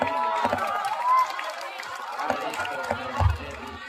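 Students at a school quiz competition cheer for their houses, a dense mix of shouting voices and crowd noise that swells and dips over a few seconds.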